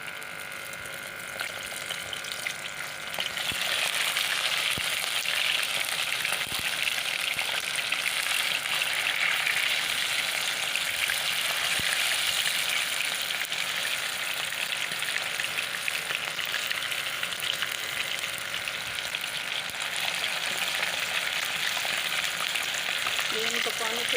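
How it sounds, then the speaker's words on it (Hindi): Chicken wings fry a second time in hot oil, giving a continuous, loud, bright sizzle with bubbling that holds steady throughout, with no talking. "ये दोबारा फ्राई कर रही हूँ।"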